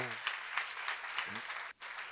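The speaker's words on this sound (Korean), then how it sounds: "박수로 하세요" Faint applause from a church seminar audience, a light, distant patter of clapping with a voice briefly heard over it and a short dip near the end.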